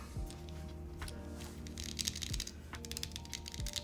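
Keys clack on a Leo80 TKL custom mechanical keyboard with freshly installed bright-sounding switches, a close, quiet run of rapid typing strokes with a few heavier bottom-outs.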